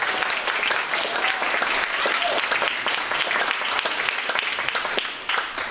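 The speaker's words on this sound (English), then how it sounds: "Let's clap for her." Theatre audience applauding at a new works showcase, dense steady clapping that fills the room throughout before tapering slightly at the very end.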